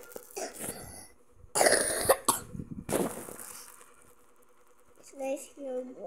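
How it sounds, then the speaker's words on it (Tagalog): A person coughs several times in harsh, close bursts with pauses between them, followed by brief vocal sounds near the end. "inuubo ako."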